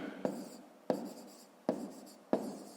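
Pen strokes on paper, about four distinct bursts each starting with a sharp scratch and trailing off, close and moderately quiet with no talk, in a school maths lesson.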